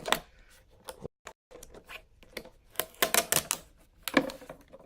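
Protective film is peeled by hand off a GoPro Hero 4 Silver camera, giving close, irregular crackling and clicking bursts separated by brief pauses, with no voices.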